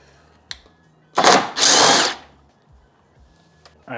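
A power drill backs out 10 mm bolts during a tail light install: a short tap, then two close whirring bursts about a second long, followed by quiet clicks.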